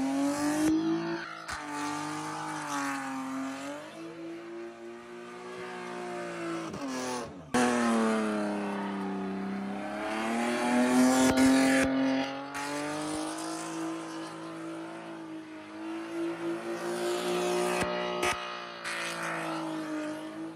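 A BMW E36 325i with an open differential does donuts, its engine revving and droning in long rising and falling sweeps with bursts of tire squeal, loud and close throughout.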